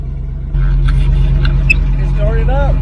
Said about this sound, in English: It started up and it's running, but it is loud